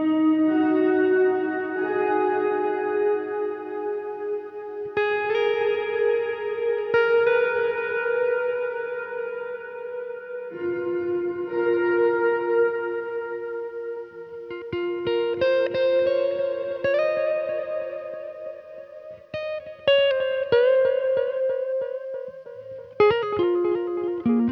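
A guitar played through a Source Audio Encounter effects pedal rings out sustained chords and single notes. Delay repeats and reverb tails trail each attack, and the notes change every few seconds over a long passage.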